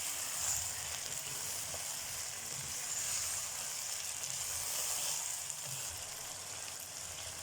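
Chicken and roughly chopped tomatoes frying in a pan for chicken bhindi gosht, a steady, even sizzle with a faint high hiss that holds throughout without pauses or talk.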